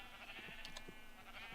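Faint sheep bleats sound in a video game, a couple of short, soft calls over a steady background hum.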